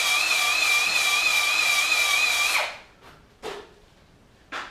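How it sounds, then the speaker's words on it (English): Cylinder hone driven by a drill motor spins inside an engine bore lubricated with automatic transmission fluid, a loud steady whining grind for over two seconds, then stopping into quieter scraping and brief clicks. "Slowly spin it with your drill motor and push it in."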